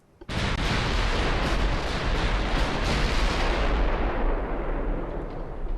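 Naval guns firing in the Ultimate Admiral: Dreadnoughts video game: a loud, sudden broadband blast that rolls into a sustained, thunderous roar lasting several seconds, with no voices.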